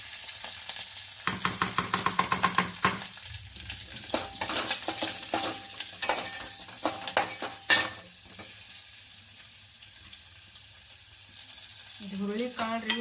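Chopped onion and curry leaves fry in hot oil for a horse gram sambar, with busy crackling and rapid spatula scraping up close for several seconds, then a quieter sizzle and a voice toward the end.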